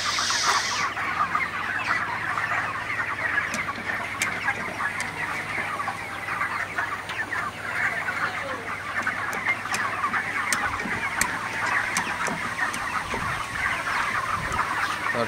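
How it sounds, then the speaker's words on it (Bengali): A shed full of ready broiler chickens clucks and chatters continuously in a dense, steady flock noise, with occasional sharper calls over a low hum of fans. "মুরগিগুলো দৌড়ায় চলে আসে সবগুলো আমার কাছে"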